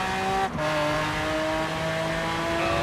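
Dodge Durango SUV engine in Forza Horizon 4, holding a steady, droning rev with a brief dip near the start, loud and close with no talking.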